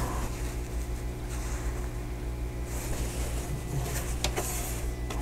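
A sewing machine stitches a sashing strip onto a quilted table topper, giving a soft, continuous low mechanical whir with a steady rhythm and no talking.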